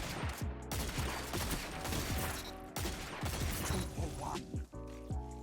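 Rapid gunfire in the Destiny video game, a dense run of repeated sharp shots with metallic mechanical clicks, loud and close, continuing almost without pause.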